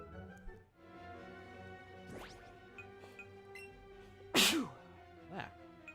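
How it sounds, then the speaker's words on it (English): A single sharp sneeze from a man playing Pokémon Let's Go Pikachu, sudden and close, rising out of quiet game music and ambience. "Cannot stop sneezing."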